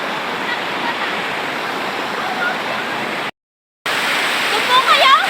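A strong river current rushes loudly and steadily with a broad roaring wash of water. There is a brief dropout partway through, and faint splashes and voices can be heard near the end.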